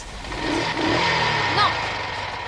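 A car engine hums and revs at medium pitch while people talk over it.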